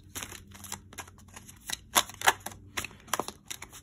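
Tarot cards shuffled by hand in a quiet room, giving a run of soft, uneven riffling clicks and slaps with a few sharper snaps, close and fairly faint, with no talking.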